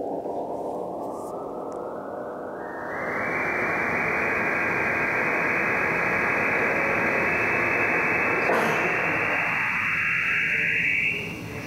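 A digital voice radio signal heard while tuning across it, a harsh hissing noise band that widens and steadies as the receiver tunes onto it, then narrows again near the end, loud and continuous, with no talking.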